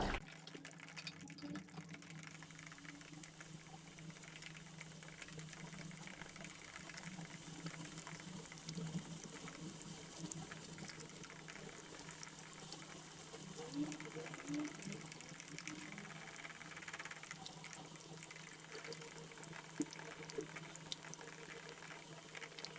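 Water poured into a pot to be set boiling, a faint steady trickling stream in a quiet kitchen, running on with little change throughout.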